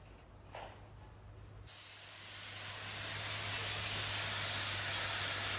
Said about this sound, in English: Once a week, the locomotive is taken out of its shed. The Colossus gets moving with great difficulty.